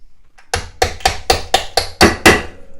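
A hammer knocks bolts into a bench vise: seven sharp, close metallic blows at a fairly steady pace, each ringing briefly, with no talk.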